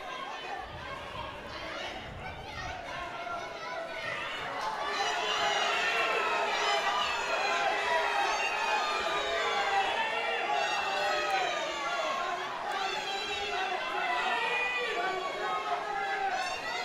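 Crowd at a judo contest, a continuous roar of cheering and many overlapping voices that swells louder partway through and stays busy to the end.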